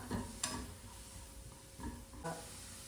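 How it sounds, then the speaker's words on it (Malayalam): Onions browning in a pan with salt and curry leaves are stirred, giving soft scraping strokes and light clinks over a faint, steady sizzle, quiet and close. "നന്നായിട്ട് ബ്രൗൺ കളർ ആവുന്നിടം വരെ ആവശ്യത്തിന് ഉപ്പ് ചേർത്ത് നമുക്ക് ഇളക്കി കൊടുക്കാം."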